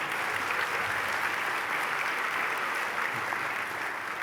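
An audience at an education awards presentation claps steadily for several seconds, a dense, even wash of applause with no voices over it.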